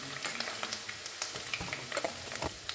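Crushed ginger and green chilli sizzling in hot oil in a pan for a chicken thoran, a steady fizzing crackle with scattered sharper pops, close and moderately loud, with no talking.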